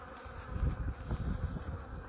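Honey bees buzz around an open beehive during an autumn colony check, a dense, continuous hum close by with swelling low-pitched drones.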